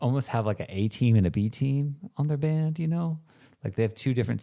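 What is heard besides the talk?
No distinct noise like a dog, phone or traffic.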